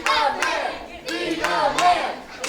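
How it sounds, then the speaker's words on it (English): A wrestling crowd chants "be a man" in loud, rhythmic unison, the phrase repeating in forceful shouted bursts that fill the space with massed voices. "You hear that crowd chanting, be a man."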